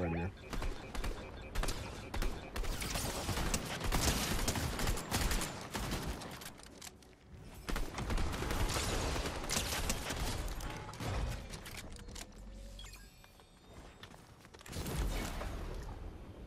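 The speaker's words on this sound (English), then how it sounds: "There was shots somewhere that way." Fortnite gameplay with bursts of distant gunfire and mechanical clicks and rattles under busy game noise, dense for most of the stretch with a few short lulls; voices talk over it.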